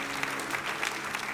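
Brief burst of audience applause at a French-language church sermon, a dense steady wash of clapping from a crowd at moderate distance, with no words spoken.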